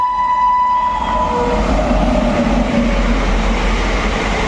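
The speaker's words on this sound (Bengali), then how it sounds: "লালগোলা শিয়ালদা প্যাসেঞ্জার দেখতেই পাচ্ছেন দ্রুত গতিতে কুর্মিতলা রেলগেট পার করে মুর্শিদাবাদ রেল স্টেশনের দিকে যাচ্ছে" The Lalgola-Sealdah passenger train speeds past the Kurmitala railway level crossing toward Murshidabad station, its horn sounding at the start over a loud, continuous close rumble and rattle of wheels and carriages.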